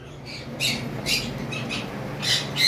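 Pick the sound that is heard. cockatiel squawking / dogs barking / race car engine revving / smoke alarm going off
cockatiel squawking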